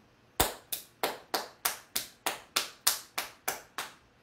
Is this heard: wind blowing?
no